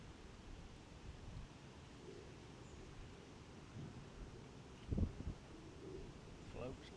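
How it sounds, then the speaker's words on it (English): Strong wind gusting across a canal bank, a steady low rumble of buffeting against the microphone with a few sharper gusts near the end. "we've got a strong wind blowing from left to right"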